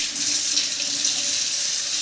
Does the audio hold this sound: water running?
yes